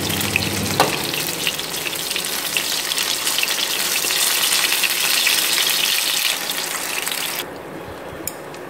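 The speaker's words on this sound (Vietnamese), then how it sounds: "Bây giờ mình rán nó vàng thêm một chút nữa là được các bạn ạ." Green rice cakes (chả cốm) fry in a pan with a loud, steady sizzle and crackle that holds for several seconds, then drops to a quieter hiss near the end. No one speaks.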